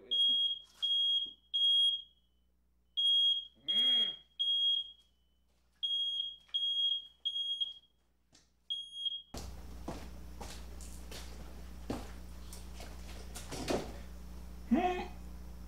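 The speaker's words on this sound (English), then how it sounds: "amber produces a ton of gas that sets off smoke detectors" A smoke detector, set off by gas from heated amber, chirps in repeated short, shrill beeps for several seconds, after which the beeping stops and a noisier room with knocks and rustling takes over.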